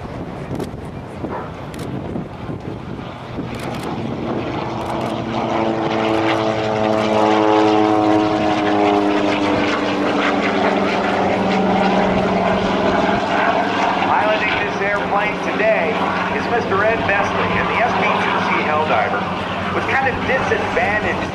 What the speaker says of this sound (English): a very rare World War II aircraft built by Curtiss, known as the SB2C Helldiver, the big-tailed beast